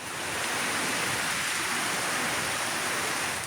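A heavy rain downpour in south-east Queensland from ex-cyclone Alfred, a dense, steady hiss of rainfall filling the whole stretch without pause.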